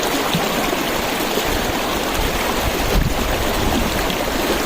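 Water stream running down from the hills at Kolli Hills, a constant loud broadband rush of flowing water close by, steady with no speech.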